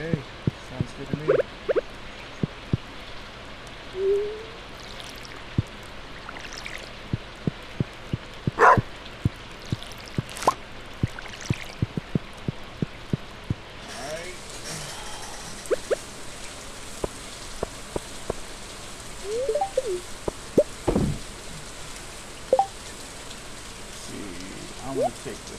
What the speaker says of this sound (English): Alright, rainy day.